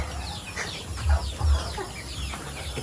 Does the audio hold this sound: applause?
no